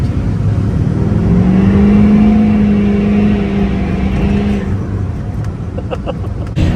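A Duramax diesel pickup truck engine runs loud and close. It idles with a low, steady rumble and a rising rev early on before settling back.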